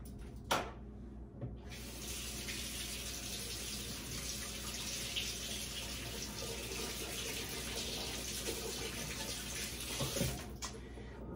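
Tap water runs steadily from a faucet into a sink while a water-glassed egg is rinsed under it, a continuous close splashing hiss broken by brief gaps near the start and end.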